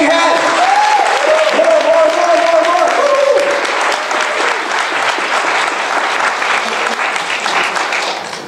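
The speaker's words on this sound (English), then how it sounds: "Give her a big hand." An audience applauds a presenter at a Jeunesse business opportunity presentation, with steady, dense clapping that fills the room for several seconds, while a voice and music sit faintly underneath.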